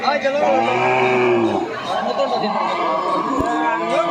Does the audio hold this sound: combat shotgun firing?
no